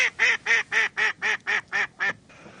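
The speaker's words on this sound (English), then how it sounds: "especially the female of mallard, as we just heard, has a very strong voice" A female mallard duck used as a live decoy on a Venice lagoon shoot, giving a loud, close series of eight evenly spaced nasal quacks that fall slightly in pitch before stopping.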